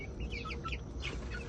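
Chickens cluck and chirp in a backyard coop, several short calls scattered across a steady low background hum, fairly close and continuous with no talking.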